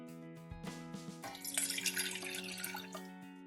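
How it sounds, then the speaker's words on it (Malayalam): Some 250 ml of water poured from a container into a saucepan while making black tea for iced tea, a bright continuous splashing pour rising from about midway and running steadily to the end over faint background music, with no talk. "ബ്ലാക്ക് ടീ ഉണ്ടാക്കുന്നതിനായിട്ട് 250 ml വെള്ളം എടുത്തിട്ടുണ്ട്. ഇനി ഇത് ഒരു സോസ് പാനിലേക്ക് ഒഴിച്ച് തിളപ്പിക്കുക."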